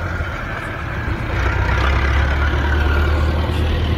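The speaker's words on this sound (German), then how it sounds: "mit seinem 77er Hürlimann mit Perkins-Motor" A 1977 Hürlimann tractor with a Perkins engine runs steadily at a tractor enthusiasts' gathering, a low diesel rumble that grows slightly louder after the first second and holds a constant drone.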